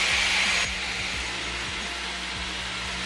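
Hair styling tool with an airflow attachment switched on, giving a steady, close whooshing blower drone with a slightly louder burst at the start before it settles into a constant hum.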